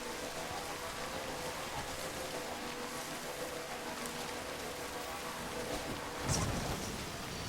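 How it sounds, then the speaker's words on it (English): Steady rain falls in Death Stranding, a dense even hiss throughout with one brief louder rumble near the end, no voices. "Get out of the rain."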